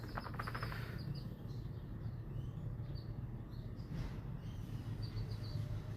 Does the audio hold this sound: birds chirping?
yes